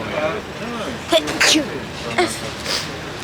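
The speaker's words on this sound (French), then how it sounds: "désolé, j'ai éternué" A single sharp sneeze bursts out in a quiet room, close and abrupt, set among a man's spoken French.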